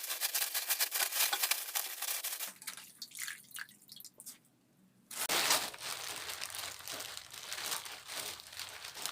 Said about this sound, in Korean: 이렇게 해서 이제 비닐에다 덜어줄게요.